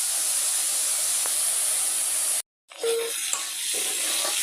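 Malabar spinach (pui shak) frying in a pan gives a steady, loud hiss that cuts out briefly midway, then resumes with a softer sizzle and faint clinks.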